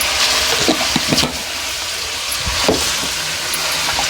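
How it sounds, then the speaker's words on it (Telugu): Spices such as garam masala and chili powder fry in oil in a pan, a close, busy sizzle broken by scraping stirs and spoon clinks. "మంచి నూనెలో ఇదంతా వేగాలి మంచిగా"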